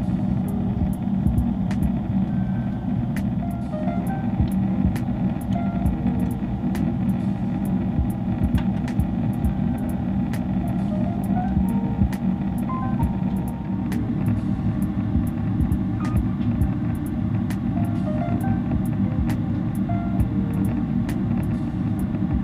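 A Garuda Indonesia airliner on domestic flight GA410 descends to land on runway 9 at Bali, heard from inside the cabin as a steady loud engine and airflow rumble with faint clicks.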